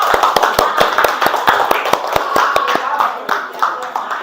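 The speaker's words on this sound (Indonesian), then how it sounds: "beri aplaus untuk semuanya" Applause for everyone in a coding and artificial intelligence training session: a fast run of sharp, close hand claps in a loose rhythm from a small group, loud and clear, fading slightly toward the end.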